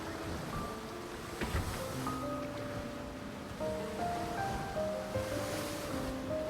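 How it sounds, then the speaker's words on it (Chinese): Ocean surf from a video game washes steadily and continuously, with sustained musical tones from the game playing alongside and no talking. "海洋的浪花"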